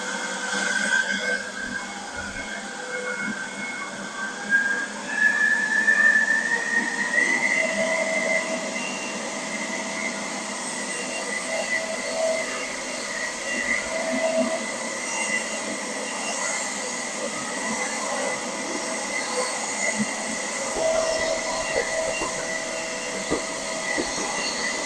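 A Workprox 20V cordless leaf blower runs steadily throughout, a continuous airy whoosh with a whine that climbs in pitch early on as it is turned up from low toward maximum, then holds at a constant loud level.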